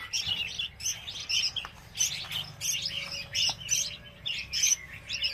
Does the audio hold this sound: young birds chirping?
yes